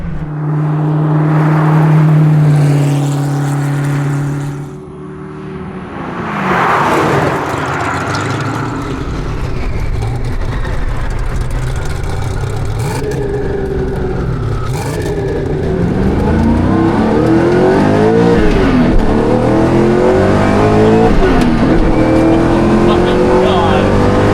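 A high-revving Hennessey Venom F5 hypercar engine roars and climbs in pitch as it accelerates, loud and close, with gear changes and a voice talking over it.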